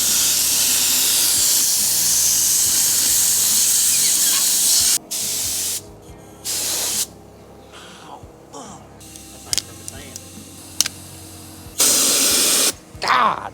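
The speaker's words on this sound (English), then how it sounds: "I give the Tractor Supply abrasive blaster handheld like a 2 out of 10." A Tractor Supply handheld abrasive sand blaster sprays with a loud, steady hiss for several seconds, then fires in shorter separate bursts with quiet gaps between them.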